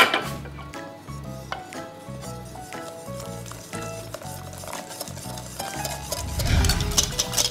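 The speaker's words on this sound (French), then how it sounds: "On continue de mélanger." A spoon or whisk stirs clafoutis batter of flour and milk in a bowl, giving steady scraping and clinking strokes in a quiet kitchen, with a louder knock near the end; no talking.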